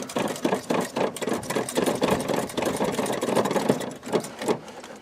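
Engine of a full-frame metric GM car running roughly nearby, a loud uneven chugging with irregular pulses for several seconds and no talk.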